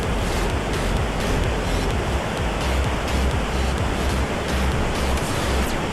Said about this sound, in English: You can hear the noise building now for the big falls outside.